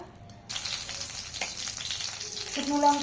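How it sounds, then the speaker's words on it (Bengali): Dried red chillies fry in mustard oil in a kadai, a steady close sizzle and crackle that starts abruptly after a brief quiet moment and keeps going, with a faint tonal clink near the end. "শুকনো লঙ্কা ভেজে নিয়েছি, তুলে নেব।"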